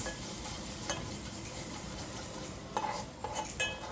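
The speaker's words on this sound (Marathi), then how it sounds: "थोडं थोडं गरम पाणी टाकून, मीठ टाकून आपल्याला ते हलवत राहायचं आहे" Mutton with red chili powder, garam masala, turmeric, salt and a splash of hot water is stirred in a pan, giving a soft, steady sizzle with a few sharper scrapes of the spoon near the end.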